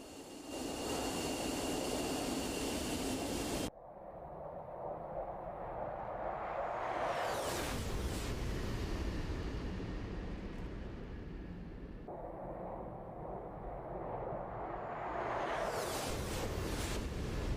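A steady, close jet-engine roar from aircraft returning to base in the DCS flight simulator, rising and falling in two sweeping passes.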